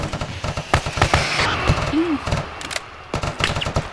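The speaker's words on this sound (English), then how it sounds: "Still hearing rounds out there" Distant gunfire in the video game Arma 3, scattered rounds popping in irregular clusters with a muffled, far-off quality and a faint brief tone midway.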